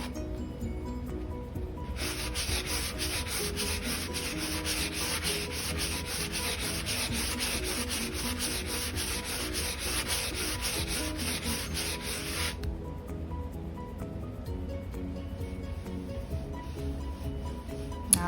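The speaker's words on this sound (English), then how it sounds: "you want to continue sanding it down" Steady abrasive rubbing of sandpaper over a drywall patch covering a popped nail, a continuous close scratchy hiss that grows brighter and denser for about ten seconds in the middle before easing back to softer strokes.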